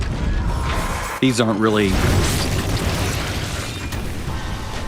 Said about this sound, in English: I'll just go with grenades because they're fun